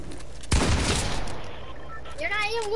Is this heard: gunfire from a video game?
yes